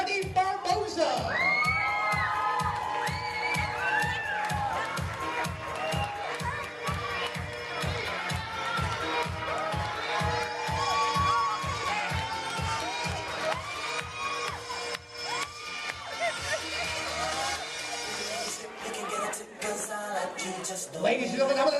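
A wedding reception crowd at Alpine Country Club cheers, whoops and claps as the bridal party is introduced, loud and sustained over a steady pulsing dance beat, with shouts rising throughout.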